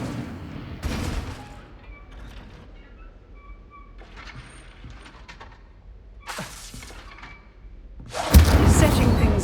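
Hogwarts Legacy's Incendio fire spell being cast, several whooshing bursts and crackles spaced across the stretch, ending in a loud roaring blast of flame, with gaps of quieter game ambience between.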